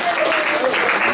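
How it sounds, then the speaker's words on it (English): An audience at a talk on professional speaking claps steadily, close and loud, with a voice speaking over the applause. "Give a round of applause for Jimmy."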